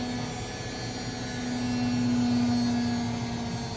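A Sharp ES-FL1082B front-loading washing machine set up outdoors rinses vigorously, giving a steady, loud whirring drone with a sustained low hum that swells slightly midway, with no talking.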